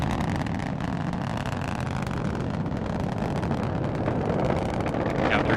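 A rocket launch with three boosters firing at full thrust makes a continuous broadband roar, steady and loud throughout, with a rough wind-buffeted rumble and no talk over it.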